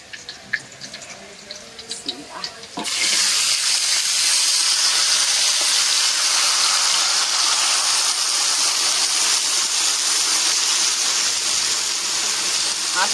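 Rice tipped into hot oil in a pan sets off a sudden loud, steady sizzling hiss that runs on unbroken, after some brief clattering and background voices.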